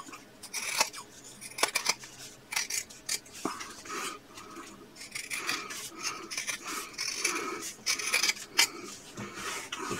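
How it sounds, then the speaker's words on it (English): Scissors snip repeatedly as they trim the fabric sides of a sewn purse, a close series of crisp cuts and rasping blade strokes with short pauses between bursts. "And now I want to trim my sides down."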